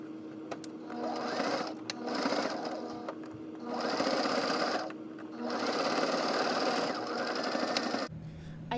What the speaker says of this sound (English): The next step is hemming the side edges of the rectangles, and this is repeated on both side edges of both rectangles.